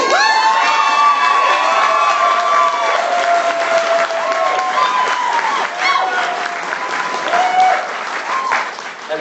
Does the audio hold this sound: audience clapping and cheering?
yes